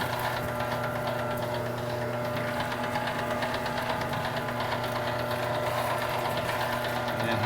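An electric meat grinder runs steadily, pushing meat through a 1/8 inch plate for sausage, a constant close motor hum with a mechanical whir and no breaks.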